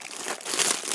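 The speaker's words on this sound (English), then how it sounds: "let me just unwrap it. It's actually really hard to unwrap." Plastic wrapper crinkling close up as a large strawberry shortcake squishy toy is unwrapped, a brief, steady rustle that swells slightly toward the end.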